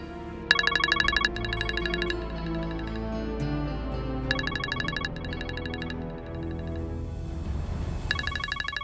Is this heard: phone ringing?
yes